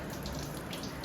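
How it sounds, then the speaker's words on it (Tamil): Guavas are washed in water, a loud, close, continuous splashing and rushing of water for a moment. "கோயிங் கொயக்கா வாஷ் பண்ண போறோம்"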